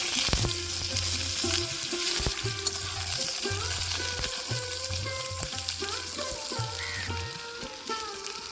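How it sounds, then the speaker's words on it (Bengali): Steady sizzling of potatoes frying in hot oil, with repeated scraping and stirring knocks in a regular rhythm throughout. "এবার আমি আলুগুলো ভেজে নেব"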